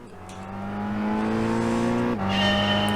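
Car engine in Gran Turismo 5 racing on the Nürburgring, a steady, loud, rising drone of revs that briefly drops at a gear shift and then climbs again, heard alone.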